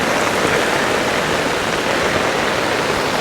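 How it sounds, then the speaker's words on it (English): Flood water rushing down ravines into a dam on Mount Wolvi, a dense, loud, constant roar of flowing water close by, with no voices. "There's a lot of water flowing here"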